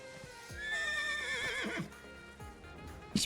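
A horse in a video game whinnies loudly with a wavering, drawn-out neigh, followed by a few hoof clip-clops and a brief sharp sound at the end.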